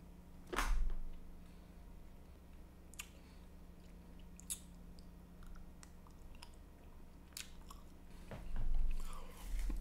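Someone chewing a soft peanut butter chocolate bar, with a few faint bites and mushy chewing sounds close to the mic amid quiet room tone, louder bursts at the start and end.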